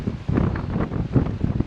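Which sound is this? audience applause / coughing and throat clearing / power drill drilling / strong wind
strong wind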